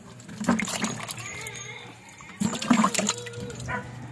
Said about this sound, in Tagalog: Katapos natin siyang balatan mga idol, tsaka natin siya hugasan.